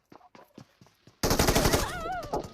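Gunfire in the mobile game PUBG Mobile: a few spaced single shots, then a sustained loud burst of rapid automatic fire close up, continuing to the end.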